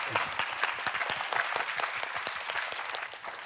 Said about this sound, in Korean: 목사님 떨리지 않게 큰 박수로 맞아주시죠